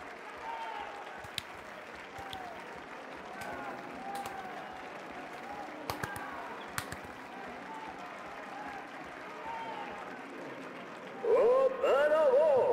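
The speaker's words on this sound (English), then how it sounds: "I hear clapping." Crowd applause in the video game Beholder 2, a steady mass of clapping with scattered sharp claps, rising louder near the end as a voice begins addressing the gathering.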